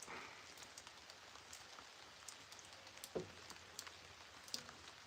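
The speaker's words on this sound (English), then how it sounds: "It's really raining out there." Rain falling outside, a faint steady patter with scattered sharper drips, heard from indoors with no talking.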